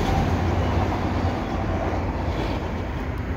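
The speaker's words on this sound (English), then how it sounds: "There's the end of the train right there." A CP freight train carrying stack and rack cars rolls past at St John's Blvd in Montreal, a steady loud rumble and clatter of wheels filling the whole stretch with no pauses.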